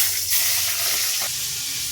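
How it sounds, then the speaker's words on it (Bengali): Prawns fry a few at a time in hot oil, giving a steady close sizzle and crackle throughout, with no voices. "তেলটা গরম হয়ে গেছে, এবার আমি চিংড়ি মাছগুলো একটা একটা করে ভেজে নেব।"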